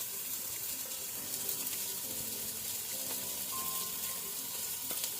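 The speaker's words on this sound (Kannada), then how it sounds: "ಎಣ್ಣೆ ಬಿಸಿಯಾದ ನಂತರ ಈರುಳ್ಳಿ ಹಾಕೋಣ, ಅನಿಯನ್, ಅದರ ಜೊತೆನೆ ಹಸಿಮೆಣಸು" Onion and green chilli sizzle in hot oil in a clay pot while a chicken gravy is cooked: a continuous, even, crackling hiss, close and steady throughout with no talk.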